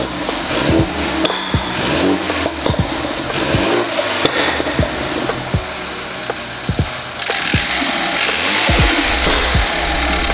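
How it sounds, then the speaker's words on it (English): A tuned, modified BMW 328i F30 engine revs and rumbles with sharp throttle blips and pops, loud and close, with a brief lull before revving again. "With all these mods, guys, the car sounds great, so take a listen."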